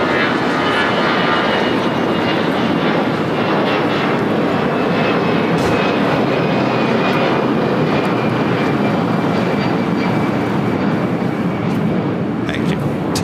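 Boeing 767 jet airliner taking off at LAX, a loud, continuous broadband jet roar that holds steady throughout, heard from fairly close with no speech over it.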